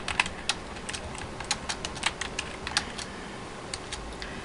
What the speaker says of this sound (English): Oh, see, Tosh, that's what you get for typing first and then reading.